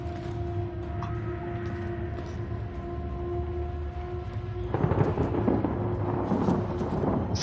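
Thunderstorm inside the horror video game Outlast: a steady low rumbling storm bed with a sustained droning tone, swelling into a louder, rougher roll of thunder partway through, heard alone without talk.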